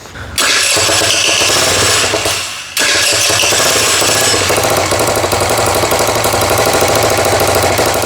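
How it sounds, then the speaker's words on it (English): A rebuilt small engine cranks briefly, dips for a moment, then catches and runs loud and close with a harsh, rapid rattling idle that stays steady to the end, with no talking. "If I leave it hold, it cranks."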